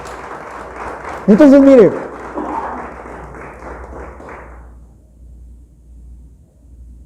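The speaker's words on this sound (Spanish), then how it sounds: "Dele fuerte el aplauso a Dios, por favor, pero déselo fuerte." A church congregation's applause thins out and fades away as a pastor starts speaking over it; a few seconds of quiet follow.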